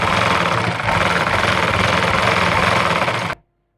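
Sewing machine stitching a seam on a salwar, a loud, fast, steady mechanical chatter running continuously for a few seconds before stopping abruptly.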